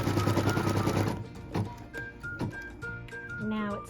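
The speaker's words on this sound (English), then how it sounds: "So what we're stitching right now is the cut line for piece number 4" A sewing machine stitches the cut line on a fabric piece for a quilted apple trivet or coaster, a dense mechanical whir for about a second before a person starts talking over quieter handling sounds.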